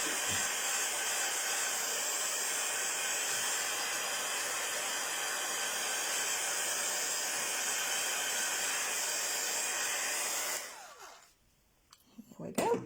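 A heat tool or dryer blowing on a heavy gesso layer over cardstock, a loud steady whooshing whine for about ten seconds that cuts off abruptly, followed by faint handling noises.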